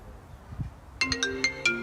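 A phone ringtone from an incoming call starts after a quiet moment, with a rhythmic series of bright melodic tones repeating about five times, clear and close.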